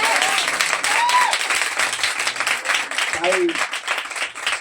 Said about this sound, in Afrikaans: Ek dink sy verdien weer 'n ander klap.